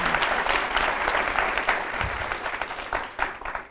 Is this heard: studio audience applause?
yes